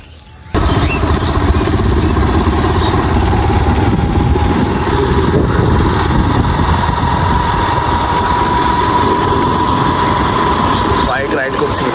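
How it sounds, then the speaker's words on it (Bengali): A motorcycle ridden along a riverside char near the India–Bangladesh border, with jute retting in the river, holds a steady, continuous engine drone through the whole clip, close and fairly loud, with a faint rising whine near the end. "বাইক রাইড করছি"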